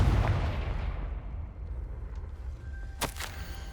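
Confringo blasting curse explosion in the Hogwarts Legacy video game: a loud low boom opens and rumbles away, with a sharper burst near the end over a steady ambient bed.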